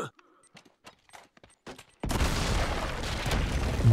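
A loud grenade blast from the video game Uncharted 3 erupts suddenly after sparse quiet clicks and faint sounds, followed by a sustained rumbling roar of debris and noise.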